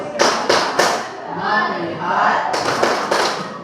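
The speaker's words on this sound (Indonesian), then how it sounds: "Tepuk fokus dimulai" A group claps out a rhythmic focus-clapping routine in a classroom, three sharp claps, a pause filled with a voice, then three more evenly spaced claps.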